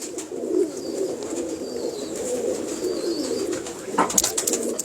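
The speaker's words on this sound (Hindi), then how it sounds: "ये शाह साहब, ये वो कबूतर है जिसको आप कह सकते हैं कि ये अपने अबौजदाद के रंग के बहुत करीब है ये कबूतर।" A pigeon coos in soft, repeated low calls, close by, with faint background noise and a brief sharper sound near the end.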